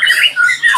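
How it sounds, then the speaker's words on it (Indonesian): An oriental magpie-robin (murai trotol) gives short, loud, harsh squawking calls, three quick bursts close by with no talk over them. "Ini ada burung murai trotol jahat dari ring apa ini Mas Arul"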